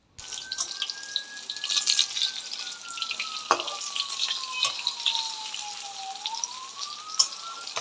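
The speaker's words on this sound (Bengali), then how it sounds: "চলো এক এক করে চিকেনের পিসগুলোকে ভেজে নিই" Chicken pieces for chili chicken fry in hot oil like pakora, a steady crackling sizzle with occasional stirring clinks, a thin whistling tone drifting in the background.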